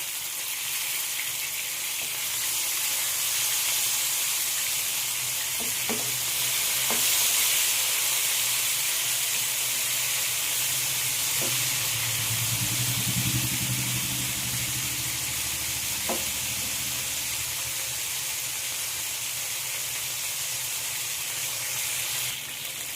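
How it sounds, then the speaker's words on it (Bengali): Chicken pieces being turned and fried in hot oil give a continuous close sizzle, with a few sharp utensil clicks as they are flipped and a swell of bubbling midway, no one speaking. "চিকেনটা আমি উল্টে পাল্টে ভালো করে ভেজে নেব"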